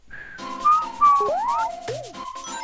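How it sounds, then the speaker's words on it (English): A whistle from the Sonic CD video game plays as a bright, melodic run of sliding and bending notes, loud and close, with a backing of synthesized tones. "Well, that whistle is pretty good."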